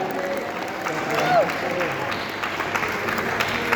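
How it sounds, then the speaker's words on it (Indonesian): Audience at a public discussion forum applauding steadily, a moderate wash of clapping with faint murmurs and voices underneath. "Kita berikan tepuk tangan yang meriah."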